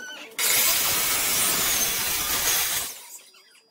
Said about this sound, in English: So I went and borrowed my dad's saw, because my little 10 inch saw isn't big enough, so this will start cutting.